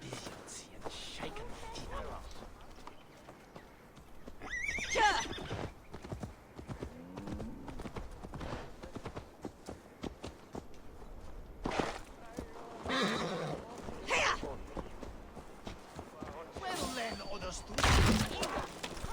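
A horse in Assassin's Creed Valhalla clip-clops at a gallop with a few whinnies, under intermittent talk, music and game effects.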